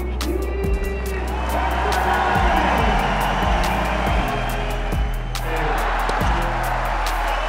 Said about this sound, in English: You can hear how excited the crowd are when Thiem wins a point.